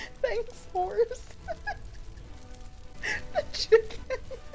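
Chicken clucks in a short bursts within a fantasy video game, a few brief squawking calls at moderate distance, with faint background game noise between them.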